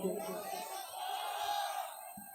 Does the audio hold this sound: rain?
no